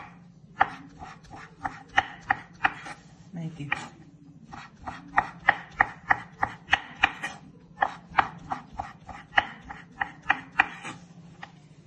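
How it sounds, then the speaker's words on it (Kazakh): A knife chops food on a cutting board in a quick, even series of sharp, close taps, with one brief spoken word over the chopping. "Осының бәрін осылай кесеміз,"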